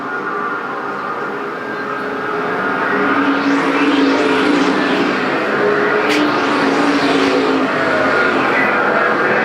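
Street stock race car engines roar past in a steady, loud stream, swelling and fading as the cars speed by on the Perris Auto Speedway track.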